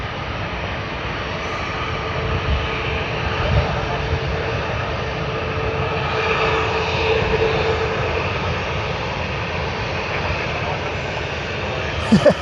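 An airplane's engine drones steadily at Sydney Airport, a broad continuous roar near the runway that swells and fades slightly over the stretch while people talk over it.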